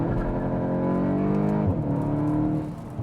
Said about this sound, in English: tap the pedal, boom, it shifts. There's no artificial delay or whatever.